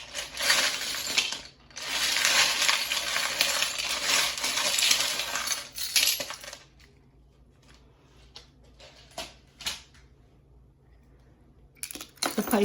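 Small metal charms clink and rattle together in a dense, busy burst for several seconds, then a few scattered clicks, with another jingle at the end.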